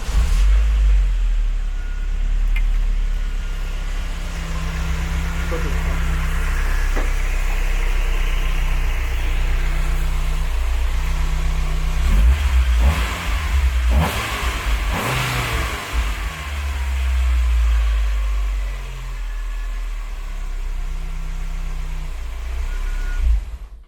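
An Opel Kadett GSi / Astra GTE with a 16-valve C20XE red top engine idles with a low rumble, then revs up several times in quick bursts before settling back to a steady idle, close by.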